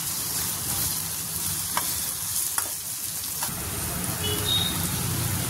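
A spoonful of turmeric and spices is stirred in hot oil in a pan for matki usal: a constant close sizzle with a few light scraping strokes and soft spatters.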